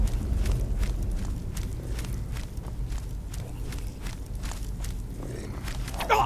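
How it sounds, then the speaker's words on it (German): An enemy's footsteps in Skyrim Special Edition fall in a steady, evenly spaced series of soft thuds at moderate volume over a low ambient rumble, with no talking. "Ich höre seine Schritte."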